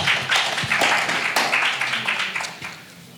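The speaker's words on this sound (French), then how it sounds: "On applaudit très fort." Audience applause at a press conference, a dense, steady clatter of many clapping hands that carries on for about three seconds before tapering off.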